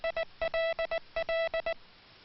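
A hand key sends the Morse letter L as steady tone beeps in a short-long-short-short rhythm, repeated twice, clear and alone with no voice.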